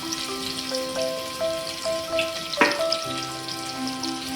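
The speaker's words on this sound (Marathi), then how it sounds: "इथे मी आलं आली लसूण असं फेसून घेतलेलं आहे ते आपण टाकणार आहोत" Ginger-garlic paste dropped into hot oil with cinnamon pieces in a pan, frying with a steady sizzle and a sharp burst as it hits, no talking, for a Maharashtrian village-style chicken rassa.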